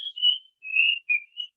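Human whistling imitates birdsong in a Spanish-language classroom lesson: a short run of clear, high whistled phrases with brief pauses between them, heard alone at close range.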